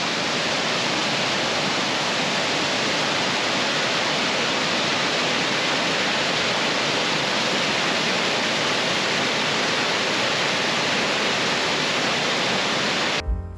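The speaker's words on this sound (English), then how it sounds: "And here the falls from another viewpoint." A Pacific Northwest waterfall cascading 48 feet into a narrow moss-draped canyon makes a loud, steady, unbroken roar of rushing water that fills the whole stretch without any voices.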